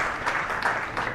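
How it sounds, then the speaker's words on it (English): Cricket spectators at Sapphire Gardens in a Glamorgan versus Northamptonshire County Championship match clap steadily for a batsman's fifty, a dense, even patter of applause without talk. "receives the applause from the faithful here at Sapphire Gardens"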